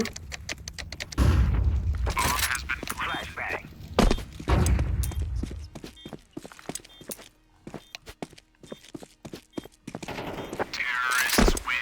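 Gunfire in a competitive shooter video game, with rapid bursts of shots, thumps and running footsteps that come and go over about twelve seconds, while players talk over the action.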